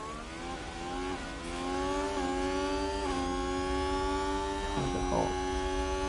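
An F1 car engine on a flying qualifying lap in F1 Manager 22 screams steadily, its pitch climbing and dropping back at several quick gear shifts, with faint talk underneath.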